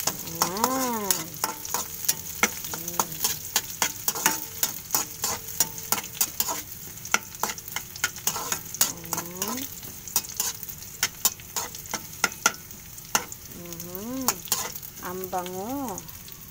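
Ginger fries in a wok, sizzling steadily while a utensil scrapes and stirs in irregular bursts of clatter and rasping strokes, close and fairly loud, with no voices.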